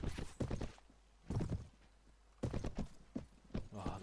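Horse hooves clip-clop in short bursts of quick steps in the game Clash of Kings, with pauses between them. A faint whinny may sound along with the hooves.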